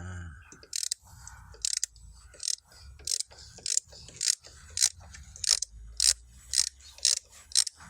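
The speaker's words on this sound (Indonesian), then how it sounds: "buka baut." A ratchet loosening a bolt on a car radiator: a close, crisp series of rapid clicking bursts in a steady rhythm, about a dozen strokes with brief pauses between them, fairly quiet overall.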